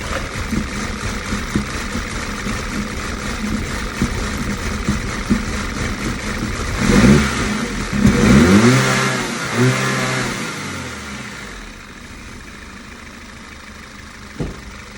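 An Audi 2.0 TFSI engine idles, then revs up in a couple of rising and falling sweeps before settling back to a steady idle, heard close and alone.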